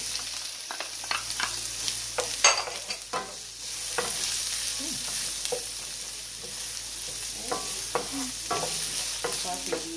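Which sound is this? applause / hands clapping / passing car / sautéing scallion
sautéing scallion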